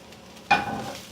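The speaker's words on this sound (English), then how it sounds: "And now we are going to fry the coconut until it turns light brown in color." Red chilies and grated coconut hit hot oil in a pan for Kerala-style varutharacha chicken curry, a single sudden sizzling burst that settles into a soft, steady crackle.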